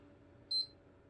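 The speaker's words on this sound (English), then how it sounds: "The console will then beep, and then beep again and turn off." A PlayStation 3 console gives one short, clear, high-pitched beep as its power button is held to shut it down, alone against a faint low room hum.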